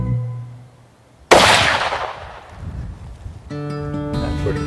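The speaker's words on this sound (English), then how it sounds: "Pretty good shooting right there." A single sharp, loud rifle shot from a .300 RCM fired at a ram on a sheep hunt, its broadband crack trailing off into a long fading echo before wind and faint tonal background return.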